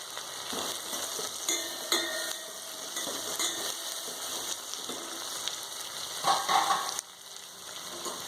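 Onions fry in oil with a continuous close crackling sizzle, punctuated by a few brief metallic scrapes and a louder burst before the sound briefly eases.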